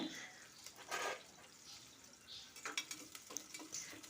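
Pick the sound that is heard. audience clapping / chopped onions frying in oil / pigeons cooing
chopped onions frying in oil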